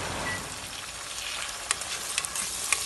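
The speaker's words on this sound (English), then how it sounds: "So guys, just take your time and stir around." Sausage stirred in sauce in a pan: a soft, constant sizzle with a few light scrapes and clicks of the utensil toward the end.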